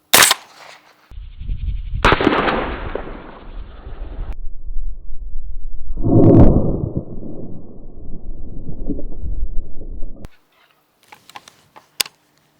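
Gunshots fired at a bulletproof Humvee windshield: a sharp report opens, followed by loud, close blasts with long rumbling echoes, then a few faint clicks and pops as the firing ends.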